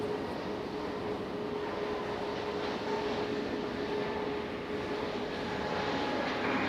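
A Frontier airliner taking off from Raleigh Durham airport, a steady, broad, loud engine roar that holds level with no break.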